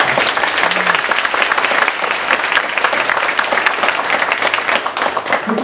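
University students at Yeungnam University applaud throughout, a loud, continuous wash of clapping from a large audience with no gaps.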